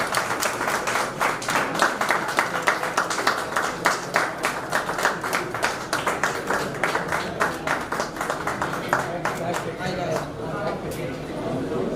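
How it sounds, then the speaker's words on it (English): A crowd at a headquarters grand opening breaks into sustained applause, dense rhythmic clapping that carries on for several seconds before thinning toward the end, with voices mixed in beneath. "Can we have a round of applause, everybody?"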